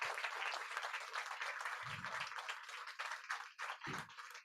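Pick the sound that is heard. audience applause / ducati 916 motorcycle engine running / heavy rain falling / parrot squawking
audience applause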